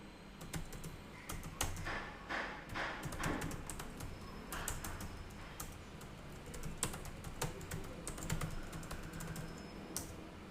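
Typing on a computer keyboard: a steady, fairly quiet stream of close key clicks with irregular rhythm and occasional louder taps, continuing for several seconds with no talk.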